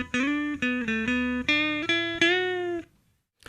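Clean, bright electric guitar notes through a twang amp preset, picked in a short melodic run, each note ringing clearly before a final sustained note fades out.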